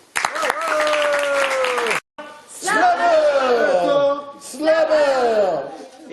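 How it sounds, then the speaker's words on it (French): Audience applause at a slam poetry evening, loud bursts of clapping with cheering voices that break off briefly and resume in waves. "Je vous demande d'applaudir très fort"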